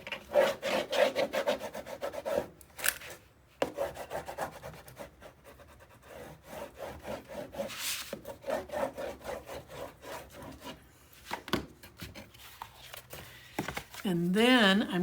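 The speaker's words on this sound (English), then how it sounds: "now give it a good old burnish." Tape being burnished down onto a handmade 9 x 9 paper album, a run of quick rhythmic rubbing and scraping strokes, close and uneven, with a pause partway and a person talking near the end.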